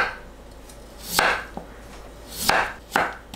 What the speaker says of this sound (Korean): 감자를 채 썰어 주세요